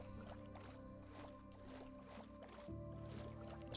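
Minecraft boat being rowed across water, with repeated soft splashing paddle strokes in a steady rhythm over a sustained game music or ambient tone, close and moderately loud.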